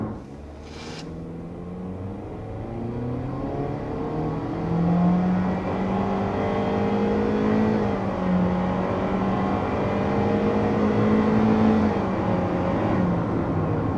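A 2023 Honda HR-V with a Civic-derived engine accelerating hard in a 0 to 60 run on flat terrain, the engine note rising steadily through the gears with short dips at each shift, heard from inside the cabin.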